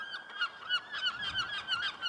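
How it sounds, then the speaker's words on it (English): Seagulls squawk in the south of Scotland town of Kirkcudbright, giving a steady run of loud, repeated harsh cries close by, with no other sounds. "Residents have had enough of their loud squawking, their swooping attacks, and the mess they leave behind."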